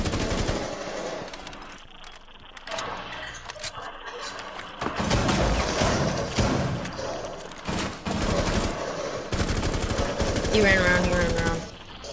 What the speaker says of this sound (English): He's trying to shoot through the wall. He's shooting through the wall.